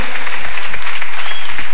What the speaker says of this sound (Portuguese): adore ao Senhor, aplauda Ele